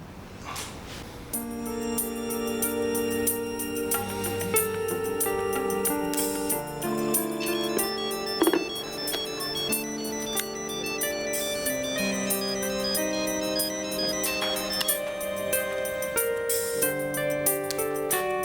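A melodic phone ringtone plays loudly and continuously, repeating its tune for the whole stretch with no talking.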